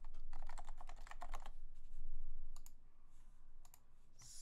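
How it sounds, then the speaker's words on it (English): Typing test on a Leopold FC660C silent-version Topre keyboard: a dense run of soft, muted key presses, then sparser scattered clicks, close and alone with no talking. "Okay, so we'll try typing test."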